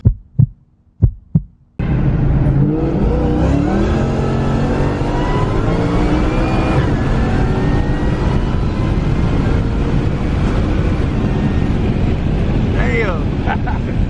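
A Roush S550 Mustang with an automatic transmission sets off on a test drive, a few sharp thumps giving way to a loud, continuous engine roar with revving and rushing wind noise from inside the car.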